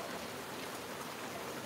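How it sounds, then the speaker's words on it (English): Heavy rain pours outside as a dense, unbroken hiss at a steady loud level, with no talking. "it is raining like crazy here"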